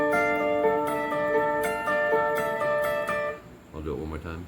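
Clean electric guitar playing a lick, bright picked notes ringing in a quick rhythmic pattern, close and alone, ending with a short muffled noise.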